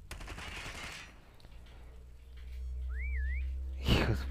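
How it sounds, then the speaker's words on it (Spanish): A brief wavering whistle that rises and dips in Call of Duty Mobile, heard between bursts of gunfire, with a sharp loud shot near the end over a low background rumble. "Escucha el silbidito ese"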